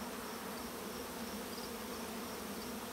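Honeybees fanning and buzzing near a hive, a dense continuous hum of many wings, close and steady, with no voices.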